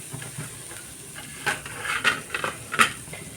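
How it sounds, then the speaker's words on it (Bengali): Grated coconut fries in a small wok, with a faint sizzle under several sharp clinks and scrapes of a spoon stirring against the metal. "কড়ার মধ্যে একটুখানি এই যে নারকেল কড়া এই নারকেল কড়াটা একটু ভেজে নেব"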